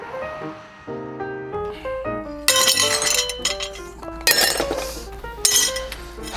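Broken glass being cleaned up: shards clink and rattle against each other in sharp bright bursts, with louder crashing clatters over a tonal musical backdrop.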